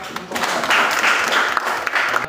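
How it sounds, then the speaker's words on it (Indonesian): Dense, continuous clapping from a class group, loud and close, filling the whole moment without a break. "tepuk tangan buat"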